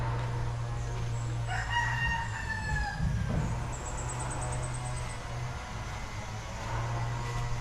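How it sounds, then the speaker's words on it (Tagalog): Roosters crowing among many chickens, including fighting cocks, at a hot spring resort in Sorsogon, Bicol; one clear nearby crow followed by a fainter distant one, over a constant low hum and faint clucking. "Ang daming manok oh. Maganda ng manok dito."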